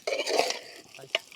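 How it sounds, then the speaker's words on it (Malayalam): Wild pork fries in its own rendered fat as a spoon stirs it, giving a short burst of scraping and sizzle followed by a single clink. "നമ്മൾ ഇടക്കിടക്ക് ഇളക്കി കൊടുക്കണം."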